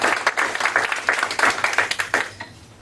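Audience applause in a live comedy or game show setting, a dense burst of clapping from a crowd that is fairly loud at first and tapers off toward the end.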